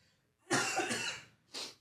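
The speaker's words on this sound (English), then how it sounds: "You're gonna make me cough." Two coughs from a man, one longer raspy burst followed by a short second cough after a brief pause, close and clear with no talk.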